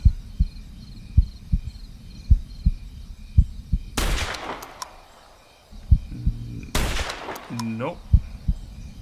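A .338 rifle shot fired at a bison in a hunting video game: two sharp, loud cracks a few seconds apart, each followed by a decaying tail, over a quiet ambient bed with faint rhythmic thumps.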